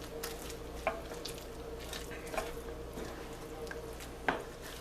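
Crab cake ingredients are stirred quickly in a pan: faint, scattered scrapes and soft squishy knocks sound over a quiet, low sizzle, with no talk.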